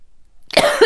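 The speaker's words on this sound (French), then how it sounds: "Excusez-moi pour ma toux, pardon." A single close, fairly loud cough bursts out after near silence, a short harsh rasp with a throaty tail and no speech around it.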